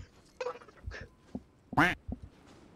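A person imitates a duck, giving a single nasal, buzzy quack among scattered quieter vocal sounds and soft knocks.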